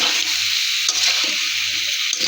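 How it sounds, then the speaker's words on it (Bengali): Radish being stir-fried in a cooked spice paste, a loud close sizzle with scraping stir strokes in short bursts. "এখন দিয়ে দিব মূলো"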